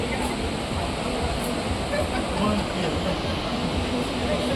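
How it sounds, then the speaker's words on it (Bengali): A stream in Meghalaya rushes past in a loud, steady broadband roar, close and constant, with voices talking faintly beneath it. "পানির শব্দ এমন শব্দ একবারে হু হু করে পানি যাচ্ছে"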